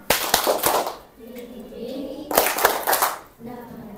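Children clapping hands in a rhythmic classroom clapping game, brisk bursts of claps alternating with a sung chant.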